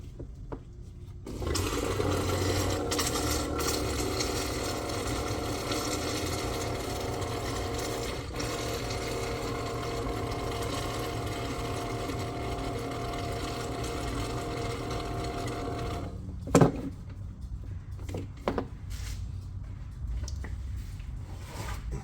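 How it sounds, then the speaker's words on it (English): A pump runs continuously, drawing transmission fluid out of a 2015 Mercedes C300 4MATIC 7G-Tronic gearbox, a steady mechanical whir and gurgle lasting about fifteen seconds before stopping, followed by a few quiet clicks and knocks. "Let me get this out and try to pump some of this out."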